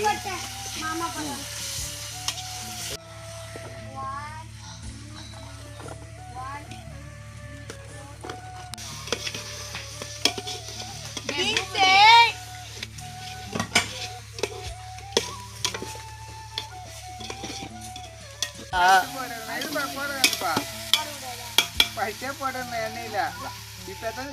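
Onions and ginger-garlic paste fry in a large pot over a village fire for biryani, giving a steady sizzle with occasional stirring scrapes while people talk and call out over it.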